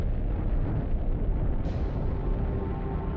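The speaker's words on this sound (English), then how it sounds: "This is a gamma-ray burst, the biggest explosion to rock the universe since the Big Bang." A deep, rumbling explosion effect depicting a gamma-ray burst, a sustained loud roar with no distinct onset, holding steady throughout.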